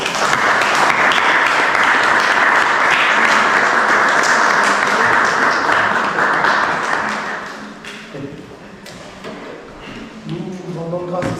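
A church congregation applauds loudly and steadily in a worship hall, a dense wash of clapping that fades after several seconds, leaving scattered claps under a voice speaking.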